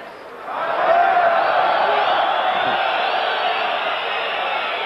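A packed arena crowd at the Monzon vs Bouttier boxing match swells into a loud, continuous roar of cheering and whooping. The noise rises quickly and holds steady, with a commentator's voice speaking over it.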